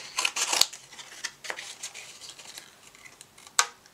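Scissors snip out a paper cutout for a Halloween mixed media sign, with a quick cluster of crisp close cuts at the start, a single snip midway and another sharp cut near the end.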